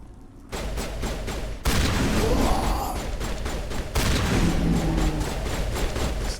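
A shotgun loaded with incendiary rounds firing in Mass Effect, a booming blast with a thick rumbling tail, then a second heavy shot midway. It sounds loud and close over constant battle noise, with no talk.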